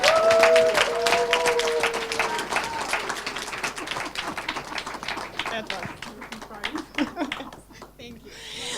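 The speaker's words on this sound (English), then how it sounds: "please give her huge applause" Conference hall audience at an internet governance meeting breaks into applause, at first under a voice, then thinning into scattered claps and fading with a few people talking.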